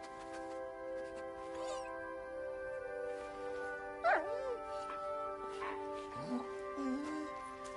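A dog in Kingdom Come Deliverance 2 gives several short whimpers and yips over a steady tonal game hum, faint and intermittent, while someone talks.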